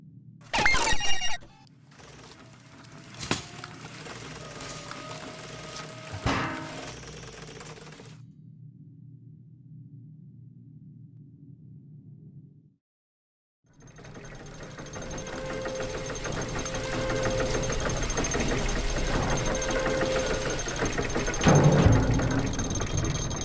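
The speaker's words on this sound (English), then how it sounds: "Is the machine working again?" A machine engine in the game The Book of Unwritten Tales 2 chugs with a mechanical clatter, sharp clanks at the start, then cuts out for a few seconds before grinding back into a steady whirring run.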